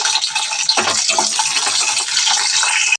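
Mustard seeds splutter and crackle in hot oil with garlic and green chillies, a loud, dense, steady sizzle running throughout with no talking.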